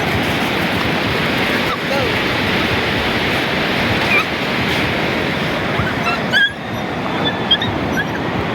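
Sea waves wash steadily onto a beach in a dense, continuous roar with some wind buffeting, while faint voices and a few brief sounds rise over it near the end.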